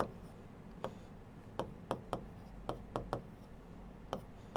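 Pen tapping and scratching on paper while a maths problem is worked out, short sharp strokes at an irregular pace, close and fairly quiet with no talking.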